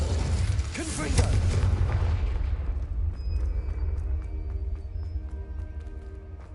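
A Confringo fire-blast spell explosion in the Hogwarts Legacy video game erupts as a loud, broad boom that rumbles and slowly fades. Faint clinking and ringing tones linger afterward.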